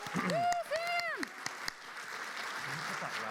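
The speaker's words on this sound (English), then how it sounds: "let's give a round of applause for Sam here" A crowd at a PAX East panel claps for a guest, with sharp scattered claps under loud cheering voices at first, then lighter applause continuing into a murmuring crowd.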